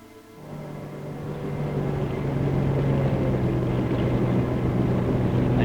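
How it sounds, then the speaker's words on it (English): A jet boat heads upstream, its engine roar rising from quiet to a steady, loud, broad rushing drone that holds through to the end, with no voices. "A jet boat goes upstream,"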